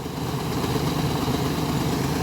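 A tractor engine runs steadily while driving a grain auger during wheat harvest, a loud, continuous low rumble with a slight sag in pitch as it bogs down a little, with no voices over it.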